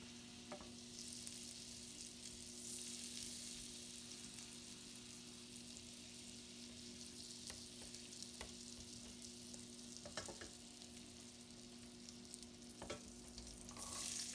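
Butter melts in a skillet with a faint, steady hiss and soft crackle. Scattered small pops and a low constant hum run underneath, and no one talks.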